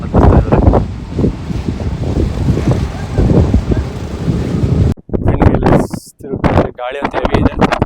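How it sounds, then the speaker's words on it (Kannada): Strong monsoon wind roars across the hilltop at Seegegudda in Hassan, battering the microphone in loud, continuous gusts, with voices partly buried beneath it and a brief cut midway. "ಗಾಳಿ ಅಂತ ಹೆವಿ ಇದೆ."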